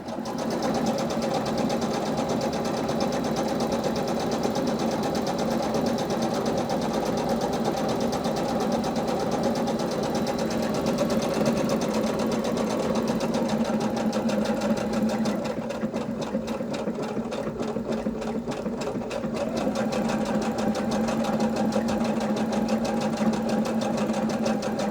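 A Brother CS5055 sewing machine stitches a pillowcase at high speed, a steady, even mechanical whirr with a rapid needle rhythm running on and on, close and alone, with a brief dip partway through.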